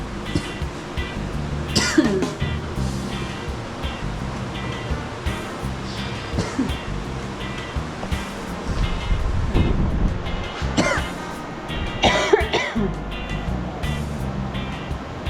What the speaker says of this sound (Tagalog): Inuubo talaga ako pumapasok ako dito.